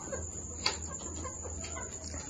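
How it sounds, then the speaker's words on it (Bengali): Chickens on a farm in flood-hit Begumganj, Noakhali, clucking softly at night in cool, rainy weather, a few low calls at moderate distance with no talk. "এই যে দেখেন মুরগিগুলা"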